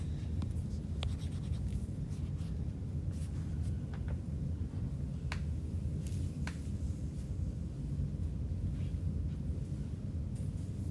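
Pen writing math notes on paper, a steady soft scratching with scattered light taps and strokes over a constant low background hum.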